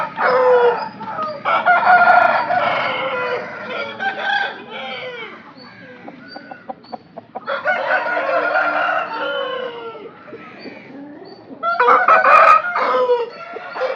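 Fighting roosters of pandem kodi breeds crow loudly and close by in repeated calls, with clucking and softer bird noises filling the gaps between crows.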